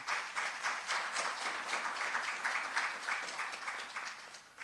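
An audience at a public event in Jamaica applauds to honour the EU, a steady, even rush of many clapping hands heard from some distance, fairly quiet and sustained throughout.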